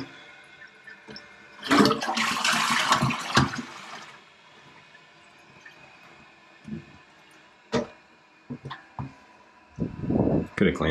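A Porcher toilet in an Australian bathroom flushes after a leaking seal repair: a loud rushing burst of water for about two seconds, then quieter trickling and refilling, with occasional clunks and handling noises.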